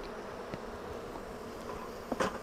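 Honeybees from a shaken swarm hum steadily around an open hive box holding freshly built comb, a continuous close buzz with a few louder passes as individual bees fly near.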